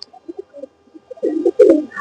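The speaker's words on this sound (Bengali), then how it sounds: "কবুতর দেখতেছেন, যা মিয়া নাজির ব্লাড লাইনের সালার কবুতর" A Salar pigeon of Mia Nazir bloodline, held in hand, gives soft, low, scattered coos that swell into a couple of louder, throaty cooing bursts close by, with no talking.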